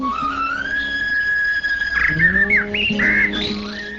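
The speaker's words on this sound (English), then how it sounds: "hummed with the chirping of the birds, whose songs were very melodious." Birds chirp and squawk close by, with long whistled tones giving way to sharper, choppy squawks and calls.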